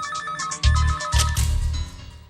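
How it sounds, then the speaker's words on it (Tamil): A telephone ringtone rings loudly and up close in a Tamil action film scene, a bright repeating electronic melody over heavy bass pulses, with no talk over it. "Sir phone sir."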